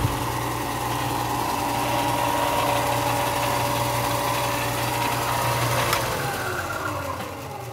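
A PerforMax tabletop sander runs with a steady, loud motor hum and whir that carries on unchanged, then begins to wind down toward the end, with no one talking.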